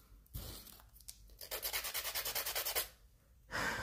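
A high-pitched electric nail drill whirs in rapid pulsing bursts, grinding steadily for a couple of seconds between short gaps while filing nails, close and fairly quiet.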